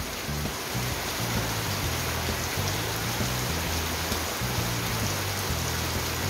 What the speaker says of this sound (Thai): บรรยากาศ ฝนตกบ้านนอกเรานะคะ